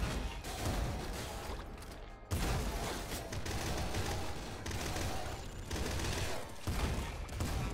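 Shotgun fire in the top-down shooter Nuclear Throne, a rapid dense barrage of loud blasts and crunchy impacts running almost without pause, briefly dropping out once before resuming.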